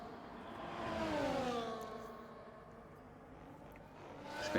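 Formula 1 race cars at Jeddah in a racing video game sweep past, their high engine whine rising then falling in pitch as they pass, fairly faint and steady with no talk.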